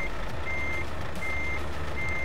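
A truck in a driving game reverses while manoeuvring into a cramped parking spot, its loud evenly spaced reversing beeper sounding over a steady diesel engine rumble.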